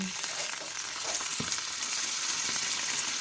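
Fatty beef hits a very hot pan with a little cooking oil for a soy, honey and ginger beefsteak, giving a steady close sizzle with a few clinks of stirring and no voices.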